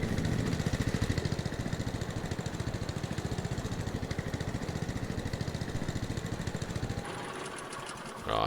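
A farm tractor engine idles and runs steadily in Farming Simulator 22, a loud, continuous rhythmic chugging that cuts off near the end, leaving brief quiet.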